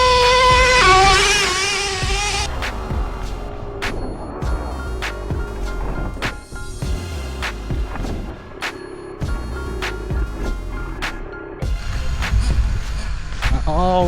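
A Traxxas T-Maxx 3.3 nitro RC truck runs at speed over grass, its small engine whining and revving in uneven surges between sharp knocks and bumps, loud and close throughout.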